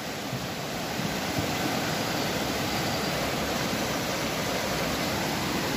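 The flooded Tahuilapa river, overflowing after a night of rain, rushes in a loud, unbroken roar of churning water close by, with no voices.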